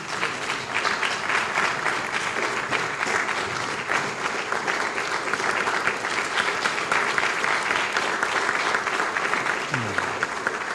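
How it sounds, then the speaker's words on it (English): A standing audience at a closing ceremony of an executive dialogue gives sustained applause, a dense, even clatter of many hands lasting throughout, with faint voices mixed in. "If we can kindly all stand up and give a round of applause"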